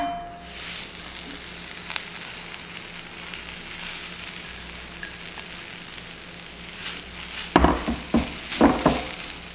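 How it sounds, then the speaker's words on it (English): Chive pancake batter (buchujeon) sizzles in a frying pan with a steady, close frying hiss. A few louder scraping or clattering bursts come near the end. "let's see if it sizzles"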